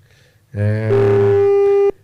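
WhatsApp call tone: a single sustained electronic tone with a harmonic buzz, starting abruptly after a brief quiet moment and holding steady for over a second before cutting off, loud and alone.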